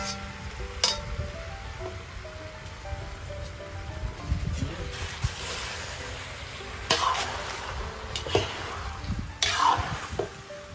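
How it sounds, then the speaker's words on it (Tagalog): Sliced radish (malabanos) sautéing in a hot pan, with a steady close sizzle, scraping stirs and sharp clatters of a utensil against the pan. "Gigisa na natin."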